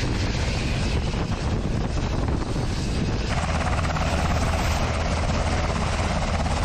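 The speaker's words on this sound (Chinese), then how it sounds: "嗱，你见到咧啲直升机啦吓" Helicopters aboard the amphibious assault ship USS America produce a loud, continuous rotor and turbine roar, steady and close, with a shift in tone partway through and wind buffeting the microphone.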